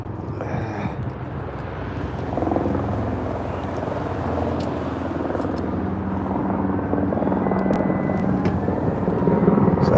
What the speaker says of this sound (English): and there's a helicopter overhead.